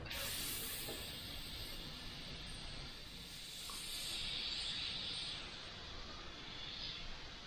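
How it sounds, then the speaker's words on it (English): An airbrush spraying paint gives a soft, continuous hiss that swells and eases in light passes, heard faintly and alone with no talking. "just basically drawing with the airbrush, going in and mapping pieces out as we go along"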